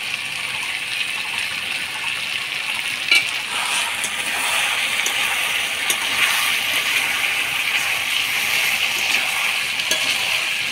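Fried potatoes and chicken pieces searing in a pan for a Bengali chicken curry, a steady broadband sizzle with occasional soft clinks of stirring, close and continuous with no talking.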